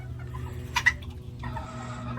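An angry bantam rooster lets out a couple of quick, agitated clucks over a steady low farm hum, followed by softer fowl chatter, moderately close.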